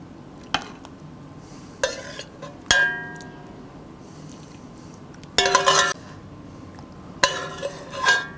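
Braised beef cheeks gently moved into a serving dish: a handful of separate clinks and scrapes of utensils against the dish, spaced by quiet pauses, with a brief cluster of sharper metallic taps in between.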